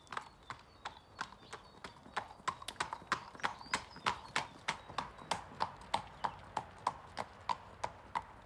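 A British sport horse trotting on a hard surface, its hooves clip-clopping in a steady even rhythm of sharp strikes throughout, moderately close, with no talking.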